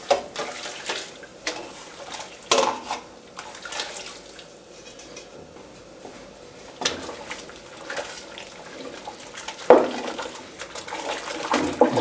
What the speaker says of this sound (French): je vais plonger mes tripes dans l'eau bouillante